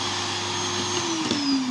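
Arzum vacuum cleaner with a fault that makes it keep running and then lose speed, giving a steady close motor whine that starts to wind down and drop in pitch toward the end.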